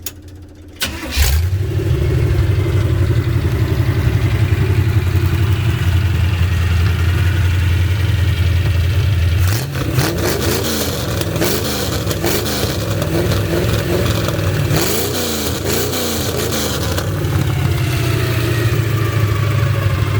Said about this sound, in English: That 350 running healthy